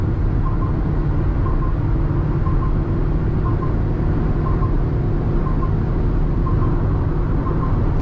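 Steady loud interior drone of a Maruti Victoris LXi CNG car cruising in fourth gear above 140, with constant engine hum and road rumble and no break in the noise.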